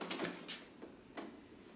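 A door is pushed shut indoors, giving a few short knocks and thuds close by over a quiet room, with no talking.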